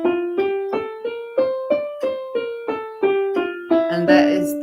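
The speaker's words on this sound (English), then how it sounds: "And that is the D natural minor scale." A D natural minor scale played note by note on a keyboard instrument, about a dozen evenly spaced plucked-sounding notes climbing and descending, each decaying before the next, close and clear, ending with a brief blurred chord.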